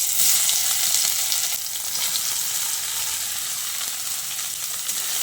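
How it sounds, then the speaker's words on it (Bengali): Marinated soybean chunks fry in hot oil in a wok, giving a loud, steady, close sizzle that eases slightly after the first moments, with no talking. "ম্যারিনেট করা সয়াবিনটাকে দিয়ে তেলের সঙ্গে ভালো করে নেড়েচেড়ে মিশিয়ে নিয়ে সয়াবিনটাকে একটু রং ধরিয়ে ভেজে নিতে হবে।"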